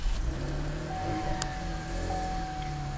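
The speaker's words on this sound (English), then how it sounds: "We'll just give this little start up here." A 2012 Chevy Camaro engine starts and settles into a steady, close idle hum with a faint whine.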